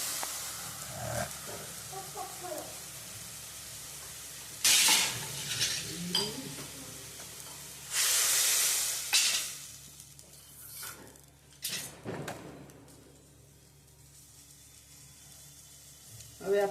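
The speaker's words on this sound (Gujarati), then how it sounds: "આંબલીનું પાણી કર્યું છે એનો વઘાર કરવાનો." Spices sizzling in hot oil as a tempering for tamarind water for rasa patra, with bursts of loud hissing, spoon clinks against the pot and stirring scrapes between quieter stretches.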